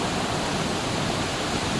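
A waterfall in a hidden spot near Dapoli village in Konkan roars as a steady, dense rush of white noise that fills the whole clip. It is even and continuous, with no voices.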